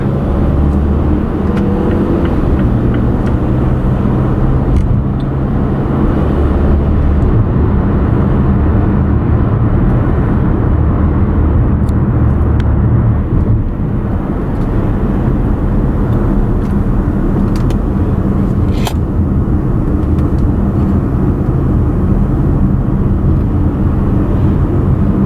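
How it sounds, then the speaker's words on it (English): Mazda CX-5 accelerating onto a highway, a loud continuous engine drone and road rumble with the pitch holding steady and a faint shift partway through. "Entering the highway, and we want to get up to speed, and then we can just push it to 3rd."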